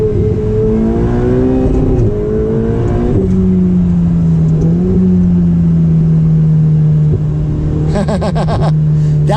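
A Ferrari 488 Spider's twin-turbo V8 heard from the cabin, revving hard through a gear change and then settling into a steady droning pull, loud and close, with brief whooshing and fluttering bursts near the end.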